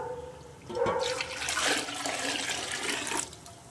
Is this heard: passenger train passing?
no